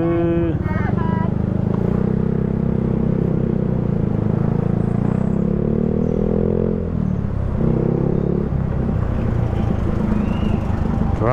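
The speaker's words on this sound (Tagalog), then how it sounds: "Traffic here in Bawan." Busy road traffic in Bauan during roadworks, with motorcycle and vehicle engines droning and idling close by throughout, a loud continuous rumble with a brief higher whine near the start and voices talking over it.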